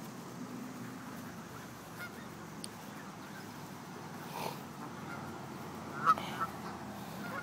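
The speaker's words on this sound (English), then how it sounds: "The big ones are geese." Geese near water at a bird-feeding spot give a few faint, scattered honks over a quiet outdoor background, one call slightly louder near the end.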